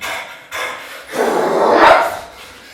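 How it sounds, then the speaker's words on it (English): A few dogs bark and yelp nearby in quick overlapping bursts, rising into a louder cluster before fading. "Dogs. So many dogs."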